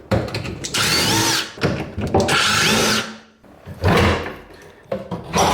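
A power drill backs out screws from the rear of a bathroom vanity, giving three loud close bursts of whirring with short gaps between them.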